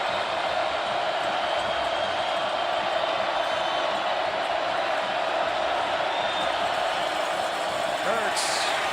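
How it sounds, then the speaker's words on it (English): Steady roar of a large stadium crowd at a Kansas State at Texas college football game, a dense continuous wash of noise from start to finish with faint commentary mixed in. "Crowd coming alive."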